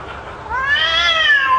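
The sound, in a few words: recording of a cat in heat meowing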